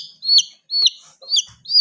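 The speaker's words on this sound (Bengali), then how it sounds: "মুরগিটা সামনে আনো দেখি একটু।" A market-bought chicken gives four quick, sharp clucking calls in close succession, loud and near, with a faint rustle between them.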